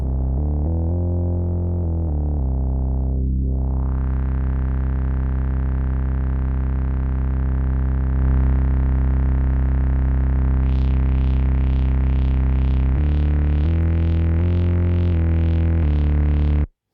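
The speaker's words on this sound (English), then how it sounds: "I can blend in a sub-octave." A sustained, buzzy tone from an abSYNTHe / Zeroth Law oscillator with a deep sub-octave blended underneath, briefly dipping then swelling, ending in a rhythmic wobbling filter sweep.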